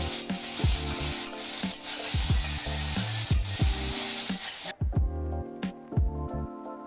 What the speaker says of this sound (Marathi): ते काप मस्त तुपात नरम होईपर्यंत परतून घेतले